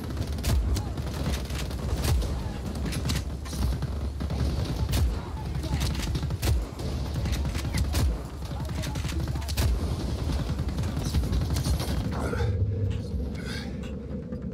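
Rapid bursts of gunfire crackle repeatedly through a dense, busy mix in a shootout in the video game Just Cause 4, before quieting near the end.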